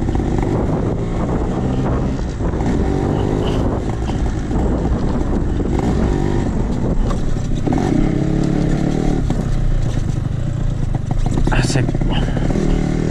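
A Yamaha RX-King motorcycle climbs a savanna hill at Kawah Wurung, its engine roaring steadily up close with wind buffeting the microphone and a rider talking over it.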